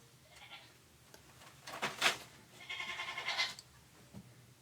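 Goats waiting for dinner bleat in two clear bursts, one short and one longer and wavering, over a quiet background.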